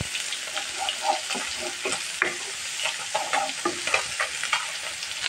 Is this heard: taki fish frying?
yes